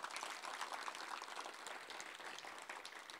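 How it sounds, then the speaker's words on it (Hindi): Audience applause at a Hindi spiritual discourse, steady and dense clapping from a crowd filling the whole stretch without pause. "पक्की बात, ताली जोर से बजानी पड़े।"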